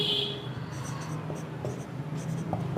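Pen writing on paper during a maths class, producing a soft, continuous scratchy rustle with brief strokes, close and moderately quiet, with faint room noise.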